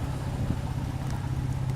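A 1993 Jeep inline-six fitted with a racing cam idles nearby, a steady, even low rumble with a slightly lumpy pulse and no voices over it.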